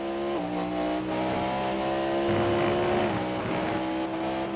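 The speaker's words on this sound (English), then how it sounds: "to me it sounds like it's hitting on the rev limiter" Race car engine in a racing video game endurance event at Silverstone GP, droning at high steady pitch and repeatedly bouncing against the rev limiter, the tone stepping and pulsing as the throttle is held hard, loud and continuous without speech.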